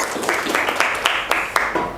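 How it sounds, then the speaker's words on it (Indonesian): Applause in a university entrepreneurship lecture: a small group claps in uneven, close, sharp beats over about two seconds, with no talk heard. "tepuk tangan untuk kita semua ya."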